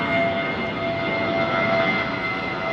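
A large jet airliner roars steadily during a takeoff departure from runway 09R at London Heathrow, a loud, sustained broadband rumble with a thin tonal whine, continuous and unbroken throughout.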